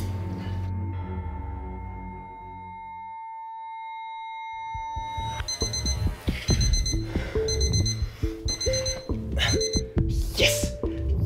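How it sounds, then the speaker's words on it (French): An alarm clock rings loudly in a bedroom: a long, steady electronic tone first, then after a short pause a fast, clattering ring that repeats in dense, rhythmic bursts. "j'espère vraiment que ça va marcher cette histoire de réveil"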